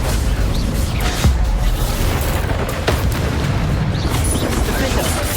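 Booming fire-blast explosions from the Confringo spell in Hogwarts Legacy, set in a loud, dense battle with continuous rumbling and a few sharper bursts.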